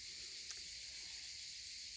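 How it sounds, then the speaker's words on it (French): Cicadas singing in a dense, continuous high-pitched buzzing chorus, steady and moderately loud throughout with no talking, apart from one brief faint click. "nous sommes en plein milieu du chant des cigales"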